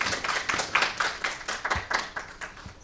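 Audience at an ESG forum claps after a keynote speech, with sharp, distinct hand claps in a loose rhythm, fairly close and loud, fading slightly toward the end.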